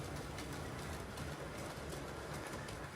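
A rake of Peco ferry model railway wagons rolls over curved Setrack points with a constant close rumble and light rhythmic clicking of small wheels on track joints.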